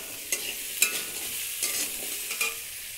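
Potato and ginger frying in a pan, a steady high hiss of oil with a few sharp spatula clacks against the metal at intervals, close and moderately loud with no voices.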